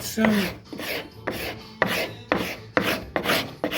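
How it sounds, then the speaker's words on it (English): A scraper drags repeatedly across bubbled paint lifted by a sandless paint stripper, giving a run of rough rasping strokes, several short scrapes in a steady rhythm, close and fairly loud. "So we're just going to scrape that off"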